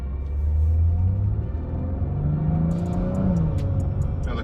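A stage 2 tuned BMW with the N54 engine and all-wheel drive accelerates hard, its engine rumbling and rising in pitch through the gears, heard from inside the car, with faint clicks near the end.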